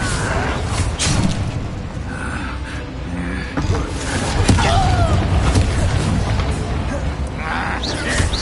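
A Confringo fire spell blasts in Hogwarts Legacy combat, booming impacts and crackling bursts amid busy battle effects, with voices talking over the noise.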